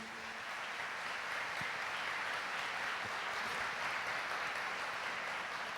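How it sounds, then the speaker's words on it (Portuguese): A church congregation applauds the word of God after a Gospel reading, a steady broad wash of clapping that holds evenly for several seconds, fairly loud and unbroken, with no talk over it. "Vamos aplaudir a palavra de Deus."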